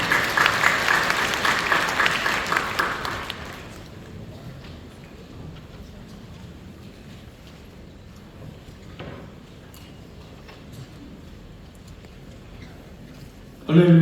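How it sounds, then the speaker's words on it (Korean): A church congregation at a New Year's Eve service applauds during the offering, a broad, steady wash of clapping that fades after a few seconds into quiet room sound. "우리 박수하며 하나님께 드리겠습니다."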